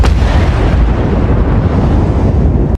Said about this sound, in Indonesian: sebuah ledakan terjadi di rumah Sabina yang membuat mereka berdua menjadi sangat kaget